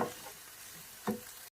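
About 1.5 kg of minced beef browning in a frying pan for cottage pie, a steady close sizzle with a stirring scrape partway through.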